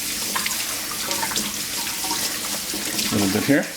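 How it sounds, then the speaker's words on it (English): Tap water runs into a sink as hands are rinsed beneath it, a steady splashing flow up close with brief speech over it. "First of all, I'm just going to rinse my hands"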